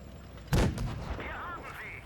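A single loud, booming tank cannon blast in the video game World of Tanks Blitz, followed by a rumbling tail and whistling, shifting engine-like tones.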